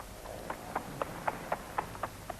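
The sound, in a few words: horse and cart trotting by into the distance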